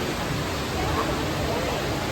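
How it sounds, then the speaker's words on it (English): Steady broadband rush of an indoor waterfall inside the Dubai Mall, continuous and fairly loud, with a faint murmur of crowd babble mixed underneath. "this is the waterfall which is inside the Dubai Mall"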